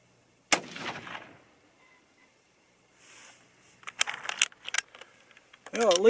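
.22-250 Remington rifle fired at a target: one sharp, loud crack with a short ringing tail, then quiet, followed by a run of close metallic clicks and handling sounds.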